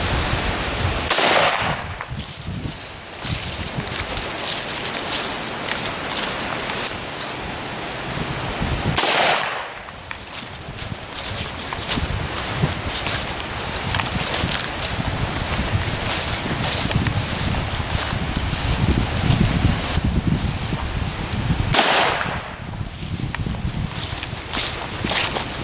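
Three rifles, an M1A, a 1909 Mauser and an H&R .223, fire at a broken airsoft gun. Three loud, sharp shots ring out several seconds apart over steady background noise.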